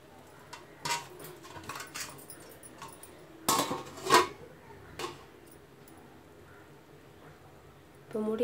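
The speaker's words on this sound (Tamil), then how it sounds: "இப்போ வந்து இதை வந்து 1 மூடி வச்சு முடிடுங்க" Lid set onto a pan of frying tomatoes for tomato thokku: a couple of sharp metallic clinks and a clatter in the middle, with quiet kitchen noise and some talk around them.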